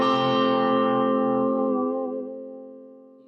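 A single guitar chord from a song lesson, struck once and left to ring with slightly processed tone, decaying gradually over a few seconds, clean and close with no speech.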